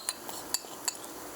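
A metal spoon clinks three times against a pan while Kashmiri korma is spooned in, light, close taps roughly half a second apart.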